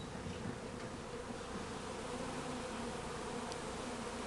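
A swarm of bees settled in an apple tree beside an apiary gives off a steady, dense buzzing drone that stays constant throughout, with no voices.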